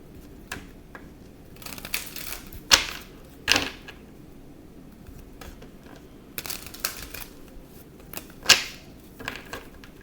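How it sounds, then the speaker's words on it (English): Tarot cards are shuffled by hand in several quick riffling bursts with soft taps between them, close and fairly quiet, with no talking. "Alright, I'm going to shuffle."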